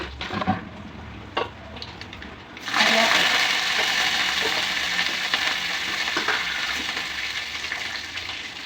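Mustard seeds and green chillies hit hot oil: a few soft taps, then a sudden loud burst of sizzling and spluttering that continues steadily, easing slightly toward the end, with brief faint speech early on.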